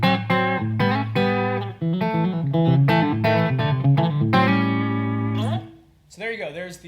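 Doubleday Starling electric guitar on its bridge pickup, played dry through a clean amp: a string of bright picked notes and chords, close and loud, ending in a short ringing phrase.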